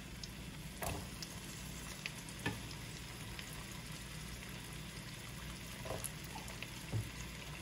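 Cubanelle peppers, onion and garlic sofrito fry gently in a pan, with a soft continuous sizzle and a few brief stirring knocks and no talking.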